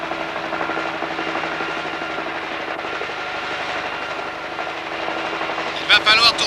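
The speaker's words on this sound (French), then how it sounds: "Ce sont les 2 hélicoptères." Two helicopters flying overhead, a steady loud rotor drone filling the whole stretch, with a few sharper clattering pulses near the end.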